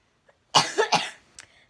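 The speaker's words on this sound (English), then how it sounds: "I just need to cough." A single close coughing fit from a person, three quick harsh bursts in a row followed by a faint throat clear, in an otherwise quiet room.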